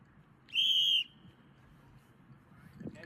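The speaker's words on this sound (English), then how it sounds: "listen to the tone of their whistle" One short, sharp soccer referee whistle blast for a penalty kick in a referee training class, clear and fairly loud, followed by quiet room noise.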